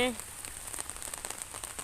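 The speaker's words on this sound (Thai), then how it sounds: "ฝนตกเนาะ" Rain from a passing storm falls on a rural Thai farmyard where rice is laid out to dry, a soft, steady patter of drops with scattered light taps, heard faintly after a brief voice at the start.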